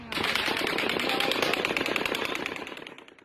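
A rapid burst of automatic gunfire at the Las Vegas shooting, dense repeated shots rattling for a few seconds before fading out.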